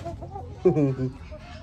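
Chickens clucking close by in a backyard coop, a burst of bright clucks rising midway through the short clip alongside softer murmuring and a voice.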